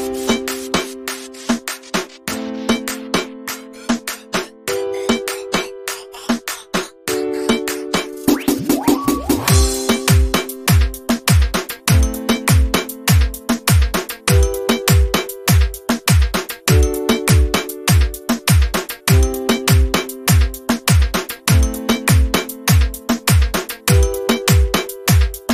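A simple remix beat built in FL Studio, with a steady kick-and-percussion pattern driving under a repeating synth melody of bright, sustained notes, loud and continuous with no voices.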